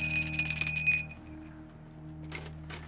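A small bell struck as a start signal on an Indonesian comedy TV show, its bright metallic ring decaying over about a second, then a quiet pause with faint room noise and a brief clatter near the end.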